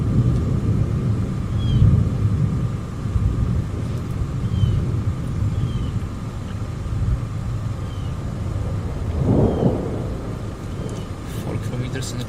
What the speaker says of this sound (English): There are just like almost constant thunder at times.